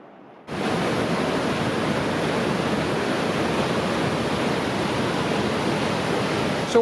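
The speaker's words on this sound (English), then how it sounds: "we are at the top of the waterfall right now" The Tarawera Falls waterfall on the Tarawera River roars in a loud, steady rush of flowing water, heard up close from the top of the falls, constant after a sudden start.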